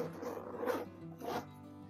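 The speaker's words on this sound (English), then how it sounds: "Let's zip it up." A YKK zipper on an oversized leather tote from Portland Leather Goods (Badlands model) is pulled closed. Two short, soft zipping strokes sound close by in a quiet room.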